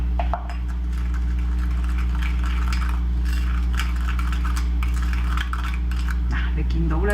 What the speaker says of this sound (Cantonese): 跟住攪勻佢。